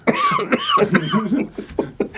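A man coughs loudly and close by in a rapid run of harsh coughs, with nobody talking.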